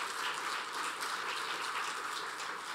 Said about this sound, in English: can we give Tess another round of applause for the work that she's been doing?